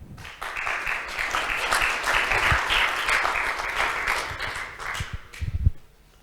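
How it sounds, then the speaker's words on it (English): Audience applause welcomes a speaker at a horse technology event in 2019. The clapping is steady and full from a sizable crowd and runs for several seconds before tapering, with a few low thumps near the end. "Big round of applause,"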